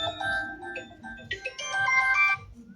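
A mobile phone ringtone plays a short electronic melody of bright repeated notes, moderately loud, with faint background sounds around it.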